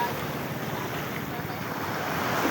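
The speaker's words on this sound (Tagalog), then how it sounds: "Medyo malakas yung alon." Rough ocean surf at a beach churns continuously with strong waves, blended with gusting wind buffeting the microphone, loud and unbroken throughout.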